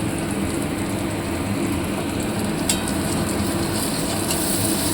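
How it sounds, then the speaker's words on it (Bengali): A steady, dense wash of heavy rain hisses continuously, broad and even throughout with no voices. "বাইরে খুব বৃষ্টি হচ্ছে"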